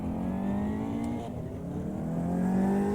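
A BMW 2002 Turbo historic racing car in the Automobilista 2 sim racing game, its engine droning loud and continuous with shifting harmonic tones. Other cars can be heard around it, with no talk.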